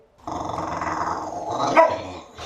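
A dog growls low and steadily at close range for about two seconds, rising briefly toward a bark-like snarl near the end before trailing off.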